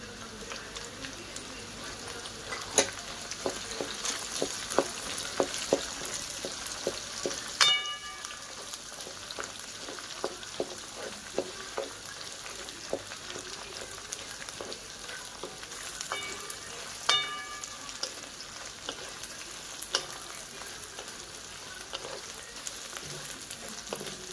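Garlic sizzles and crackles steadily in hot oil in a pan for a hotel-style gravy, with dense popping and occasional louder spits and utensil stirs throughout, no talking.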